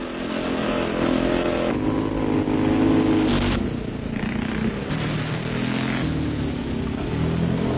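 Motorcycle engines roar and rev continuously as bikes scramble over rough ground, the pitch rising and dropping with throttle changes, loud and close.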